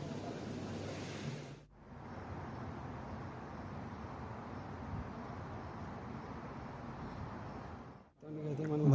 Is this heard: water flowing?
yes